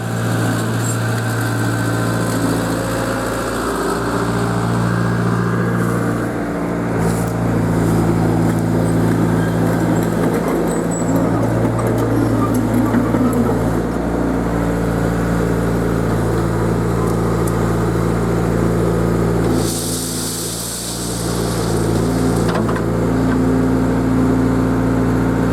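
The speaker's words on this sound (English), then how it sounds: "That's a pretty nice machine for an old Cat 307. Super reliable, little engine." An old Cat 307 excavator's small engine runs steadily at a septic job site, a constant droning hum with brief dips as the load shifts and a short burst of clatter near the end.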